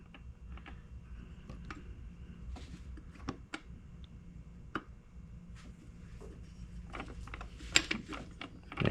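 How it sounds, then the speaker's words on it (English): Metal parts of a Vespa smallframe engine's inner clutch clicking and clinking into place during assembly: sparse sharp ticks and light knocks over a low hum, with a louder clack near the end. "Now I'll install the inner part of the clutch."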